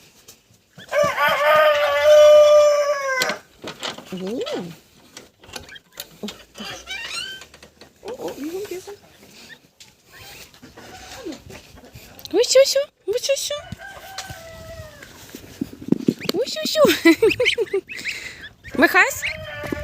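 Geese honk loudly close by on a farmyard, with goslings peeping and a rooster-like squawk among repeated calls, while people talk and call out between the cries.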